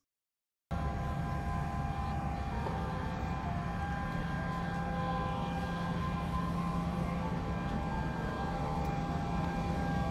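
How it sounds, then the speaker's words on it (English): Steady, broadband cabin hum and engine drone of a parked Boeing 787-8 Dreamliner airliner during boarding, constant and enveloping with no talk. "This is a Boeing 787 Dreamliner."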